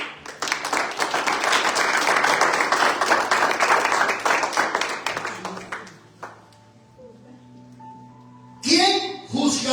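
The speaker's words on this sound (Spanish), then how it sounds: "Denle el aplauso al Señor." A church congregation claps loudly and steadily for several seconds, the applause thinning out and stopping, then a voice briefly speaks near the end.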